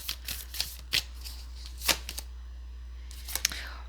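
A deck of Moonology Oracle cards is shuffled nearby in quick, crisp riffling bursts separated by short pauses, under a steady low hum.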